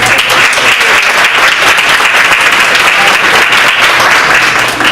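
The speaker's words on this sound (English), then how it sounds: "Can we give them a round of applause, please?" Loud, dense applause from a crowd, a steady wash of clapping hands that holds evenly throughout without fading.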